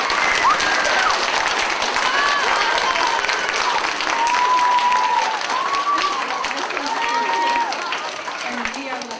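A school assembly audience claps steadily for a student, dense applause filling the room with some voices and whistle-like tones mixed in, easing slightly toward the end.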